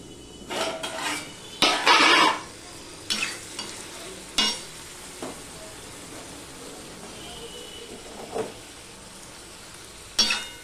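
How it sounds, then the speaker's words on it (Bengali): Flat beans frying with salt in a covered pan give a low sizzle throughout, broken by several louder bursts of stirring and scraping, the strongest near the start. "সেই জন্য আমি ঢাকা দিয়েই ভেজে নেব।"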